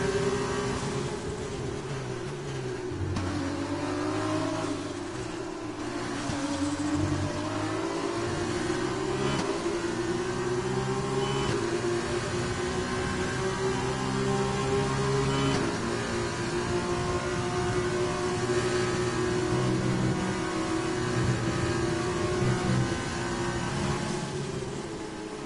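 Formula 1 race car engines in the F1 2020 game at the French circuit: a continuous high-pitched engine whine with rising and falling revs through gear changes, and another car closing in with DRS and slipstream.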